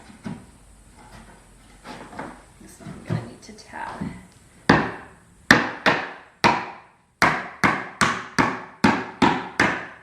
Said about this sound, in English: Just gently tap it in with a hammer if it doesn't go right in